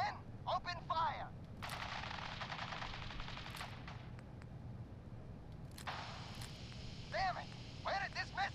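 Video game gunfire in Fallout 4, with rapid automatic bursts rattling in several volleys between short pauses, while voices shout over the shooting.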